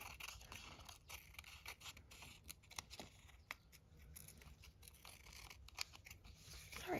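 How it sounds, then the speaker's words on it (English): Scissors trim the edge of a handmade paper bookmark from a vintage glue book, making quiet, close snips in an uneven series of short crisp cuts over a faint background hiss. "Then we just got to trim off the edge here."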